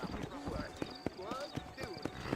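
Horse hooves clip-clop at an easy pace in a Red Dead Redemption western setting, sharp rhythmic hits heard beneath steady game dialogue and other voices.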